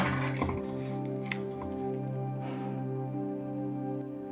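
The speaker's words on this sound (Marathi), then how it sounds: "दोन तीन वेळा पिठाला पाण्याचा हात द्या" A wet hand presses and kneads a soft wheat and jaggery dough, making a few quiet, close squishing and slapping sounds over a steady low background hum.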